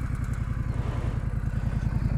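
A 2020 Triumph Street Scrambler with a 900cc 270-degree parallel twin runs close by, a steady lumpy idle with a rapid, even low thump throughout.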